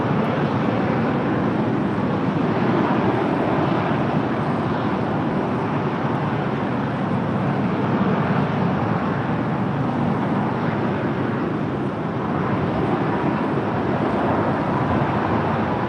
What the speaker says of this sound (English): We have a Dassault Falcon about to touch down here.